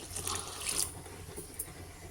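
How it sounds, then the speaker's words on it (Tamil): Coloured water poured into a pot of keerai sambar during home cooking, a faint continuous trickling splash with a few slightly louder surges, no talk over it. "கலர் தண்ணியை ஊற்றிடலாம்."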